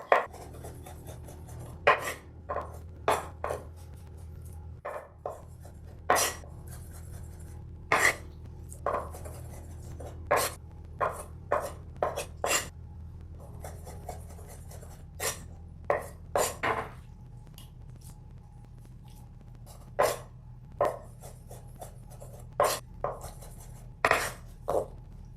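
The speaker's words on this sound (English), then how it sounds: "So we're going to do a lot of chopping" Knife chopping ingredients for scallop ceviche on a cutting board, a long run of sharp, distinct chops in irregular bursts, close and clear over a low steady background hum.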